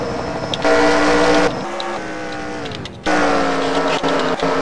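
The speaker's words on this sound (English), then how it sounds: "we have a wreck!" Stock cars wreck during a race in a racing video game, a loud continuous roar of engines with shifting tones and abrupt changes, no voices over it.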